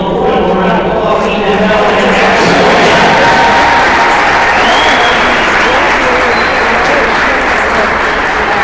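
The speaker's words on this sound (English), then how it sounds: "Please give them all a round of applause." Audience applause fills a gym during a senior recognition at an Albion College vs. Olivet College MIAA men's basketball game, a loud, sustained wash of clapping with some crowd cheering throughout.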